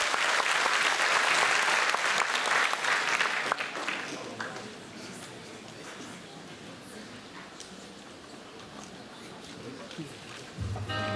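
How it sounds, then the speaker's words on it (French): Audience applause at a regional radio singing contest, loud and dense at first, then fading to scattered claps and a murmuring crowd, with a new sound entering at the very end. "on l'applaudit encore."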